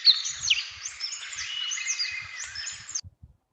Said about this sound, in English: Golden fronted leaf bird.